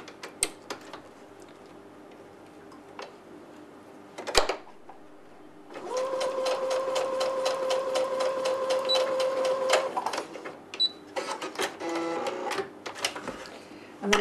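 A sewing machine runs a steady burst of stitching for about four seconds as a zipper tail is sewn to the seam allowance, with clicks and handling noises before and short stitching spurts after, close up.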